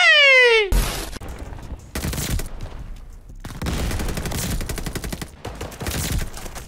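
Rapid bursts of Type 100 submachine gun fire in Call of Duty Vanguard, loud and close, coming in several sustained strings with short pauses between them, after a brief tonal sound at the start.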